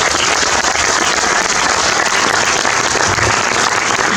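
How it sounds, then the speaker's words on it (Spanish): Audience applause at a talk by a retired Argentine Air Force major, a steady, loud, close wash of many hands clapping with no break for over four seconds. "Pido para todos un fuerte aplauso."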